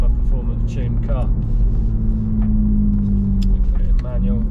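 BMW G81 M3 with a custom exhaust, Stage 2 tuned, gives a loud, steady engine roar with deep droning tone, close and continuous, with voices talking over it.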